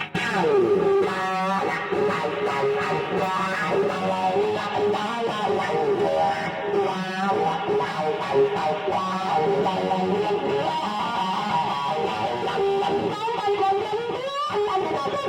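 Electric guitar played through a wah pedal fitted with a new pot, its sweeping quacky tone running continuously over about fifteen seconds of busy lead playing, with a brief spoken word near the start.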